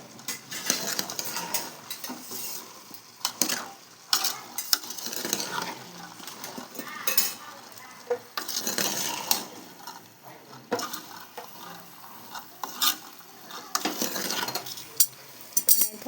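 A spoon scrapes and clinks repeatedly against a pot as chickpea curry with chutney is stirred and mixed, with irregular clattering bursts over a faint background sizzle.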